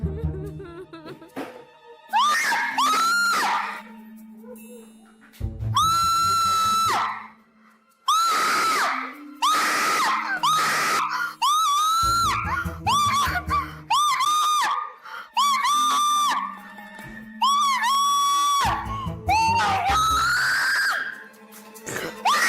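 Loud, piercing screams from a variety show erupt in repeated bursts over about twenty seconds, with short gaps of near silence between the shrill outbursts.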